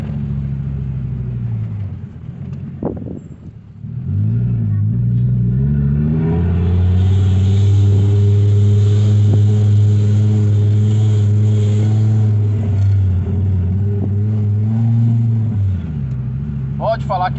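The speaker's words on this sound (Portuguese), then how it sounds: "mas o ronco do Fivetech tem pra ninguém" A Fiat Marea with the Fivetech five-cylinder engine roars as it revs up and holds a loud, steady high-rev drone, then drops back, close and powerful after a brief quieter idle.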